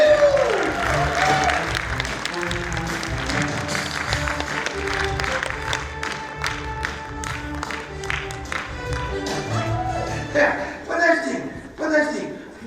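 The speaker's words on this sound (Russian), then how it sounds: "Аплодисменты Галине!" An audience at a youth theatre awards ceremony applauds, a sustained patter of claps beneath loud overlapping talk and other sound, swelling slightly toward the end.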